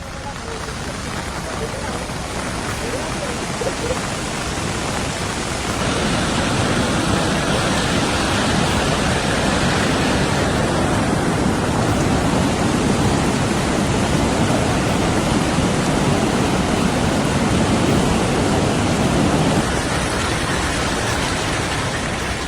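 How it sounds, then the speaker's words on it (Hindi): Flooded Beas river in Himachal Pradesh rushing above the danger mark, a loud, steady broadband roar of churning water that swells slightly partway through and continues without a break. "आप देखिए कि किस तरीके से खतरे के निशान से ऊपर ब्यास नदी यहाँ पर बहती हुई नजर आ रही है।"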